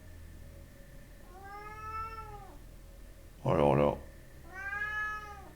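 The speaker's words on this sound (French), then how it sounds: "Oui, le chat." A cat meowing close by in a small room, two drawn-out meows with a sharper call between them, while a person speaks quietly in the background.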